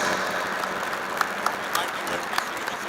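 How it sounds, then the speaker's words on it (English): Audience applause at a world interfaith harmony conference, a steady broadband wash of many hands clapping throughout, with a few sharper individual claps standing out near the end. "A big round of applause, my friends."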